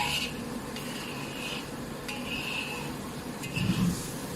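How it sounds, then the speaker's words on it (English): A spoon scrapes and stirs thick vegetarian rendang in a pan as it dries out, with repeated soft metallic scrapes and a faint sizzle underneath, steady and close. "you keep stirring and let the oil really break out"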